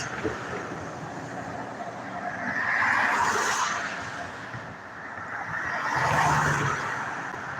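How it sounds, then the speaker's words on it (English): Traffic on a road in Dalton, Georgia, heard as two vehicles swelling past in turn with a rushing tyre hiss over a steady background of more distant traffic. "that traffic is really moving"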